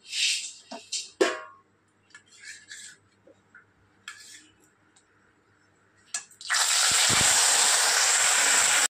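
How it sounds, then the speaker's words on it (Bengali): Fish dropped into hot oil in a pan bursts into a loud, sudden sizzle after some quiet scraping and handling noises, the frying hiss then holding steady and close. "তেলটা গরম হয়ে গিয়েছে, এবার আমি মাছটা ভেজে নেব"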